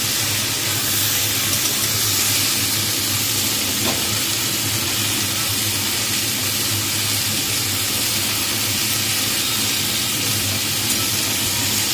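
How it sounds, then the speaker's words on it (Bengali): Pointed gourd (potol) frying in oil with salt and turmeric in a pan makes a steady, loud, unbroken sizzling hiss that lasts throughout, heard up close with no voices. "আর এইটা লাল লাল করে পটল তো একটু ভেজে নিচ্ছি"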